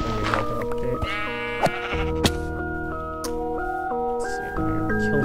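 Sheep bleating in the video game Minecraft during modded play, a few short bleats standing out over steady tonal background music.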